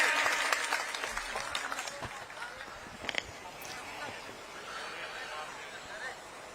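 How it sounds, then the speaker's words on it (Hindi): Crowd applause at a political rally, loudest at the start and thinning out over several seconds into background murmur and scattered noise. "अब एक बार जोरदार तालियां बजाएंगे राजा साहब के लिए।"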